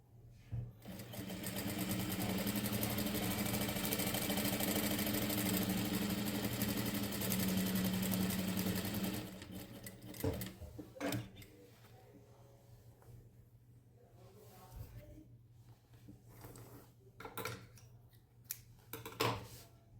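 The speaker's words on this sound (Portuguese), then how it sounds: "eu já fui lá na máquina, quiltei essa parte aqui" A sewing machine quilts a fabric piece for a half-moon toiletry pouch, running in a steady, close whir for about nine seconds before stopping, followed by quieter handling clicks and rustles.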